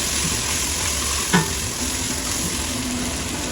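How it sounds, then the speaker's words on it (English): Ginger garlic paste hits hot oil with toasted cumin in a pan for eggplant curry, a dense steady sizzle with one brief clink of a utensil partway through, close and loud, no talking. "Let's add the ginger garlic paste"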